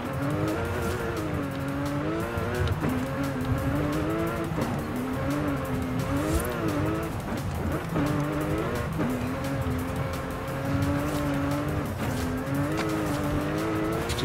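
A racing car in the video game Forza Horizon 5 revs hard, its engine tone climbing and dropping through gear changes with tire squeal mixed in, loud and continuous for about fourteen seconds.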